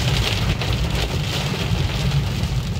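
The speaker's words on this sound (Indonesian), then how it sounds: "Ini hujannya deras, jadi kalian juga bisa nilai gimana kualitas audionya kalau lagi hujan gini ya." Heavy rain drums steadily on a moving car during a drive on a bumpy road, a dense, loud, continuous wash of raindrops with low road rumble underneath and no talking.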